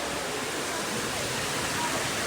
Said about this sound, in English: Some more waterfalls